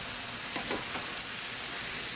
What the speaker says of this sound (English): And the butter is frying here.